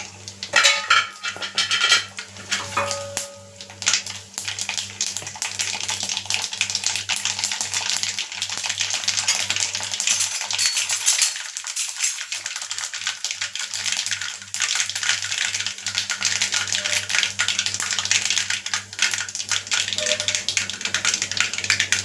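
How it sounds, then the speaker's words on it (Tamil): Mustard seeds crackling and popping in hot oil in a pan over a low flame, a dense continuous sizzle with scattered sharp pops, steady and close throughout with no talking. "கடுகு பொரிஞ்சிச்சு. இப்போ சீரகம் போட்டுக்கலாம்."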